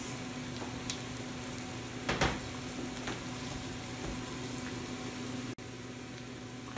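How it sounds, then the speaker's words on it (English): Onions sizzle steadily in olive oil in a pan, a soft continuous crackle with a few brief louder pops and clinks, no talking. "So we're gonna let these sizzle a little bit before we add in our green beans."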